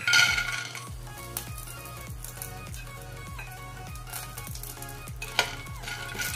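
Sun-dried lentil dumplings (badi) fry in hot mustard oil over a medium flame with a steady close sizzle, punctuated by repeated metallic clinks and scrapes of a spoon stirring in the pan.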